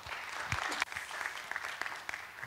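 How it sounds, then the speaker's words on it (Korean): Applause from an audience at a church lecture event welcoming a young office-worker speaker to the stage, a steady patter of clapping lasting the whole moment at moderate loudness with no talk over it. "모두 박수로 환영해 주시기 바랍니다."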